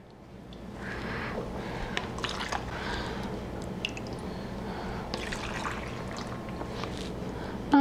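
Vinegar poured over green beans snugly packed in a canning jar, a soft, steady trickle and splash with a few small clicks, close and fairly quiet, ending in a brief louder knock.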